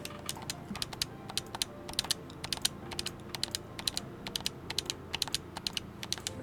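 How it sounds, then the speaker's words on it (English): A game controller's A button is pressed over and over during Nier Replicant play, giving a fast, steady stream of sharp plastic clicks at close range. "You can hear me clicking away."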